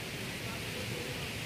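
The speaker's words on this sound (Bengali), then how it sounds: "এই যে জলের আওয়াজ, এটা ঝর্ণার নয়," Water runs through a small stream in a quiet forest on the walking path to Dhangi Kusum (Hudhudi) waterfall near Belpahari, a soft, even rushing wash that stays steady and fairly faint throughout.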